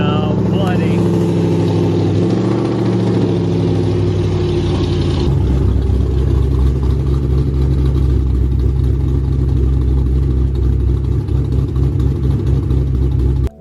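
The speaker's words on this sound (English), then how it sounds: "I installed 4 performance hot rod cams, and here's the first start." A Ford Mustang engine fitted with hot rod performance cams fires up for the first time, cranking and catching into a loud, close, rough idle that rumbles steadily throughout. A voice speaks briefly over it.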